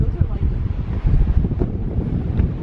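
Heavy wind buffets the microphone outdoors in Brighton in a constant low roar, rumbling and gusting without pause.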